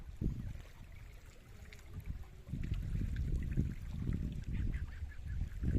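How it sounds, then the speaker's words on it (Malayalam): Birds call near water with low, honking cries that come in irregular bursts over a soft outdoor background. They sound moderately near and fairly quiet, with no speech. "പക്ഷികൾ കരകര ശബ്ദം എല്ലാം ഇങ്ങനെ കേൾക്കാം നമുക്ക്."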